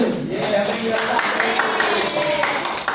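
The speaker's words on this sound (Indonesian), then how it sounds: "Oke, tepuk tangan buat kelompok 1." A class in a microteaching session claps steadily for a student group, a dense ongoing patter of hands with voices mixed through it.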